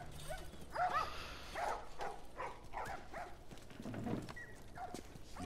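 Dogs in The Last of Us video game give a few short, fairly faint barks and yips spread over several seconds, with a soft whimper among them, against a quiet background.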